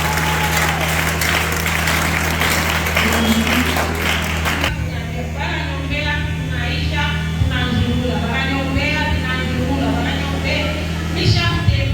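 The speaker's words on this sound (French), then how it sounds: "Acclamons d'abord très fort pour Jésus" A church audience at a faith-and-miracle broadcast applauds and cheers for Jesus, loud dense clapping for about four and a half seconds over a steady electrical hum, then giving way to voices talking.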